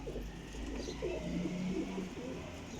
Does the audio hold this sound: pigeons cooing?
yes